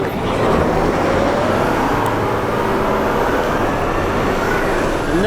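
A Hyundai wheel loader's engine roars at full throttle as the machine races off toward a pile of rock during an equipment competition, with a loud, steady, continuous drone and no speech.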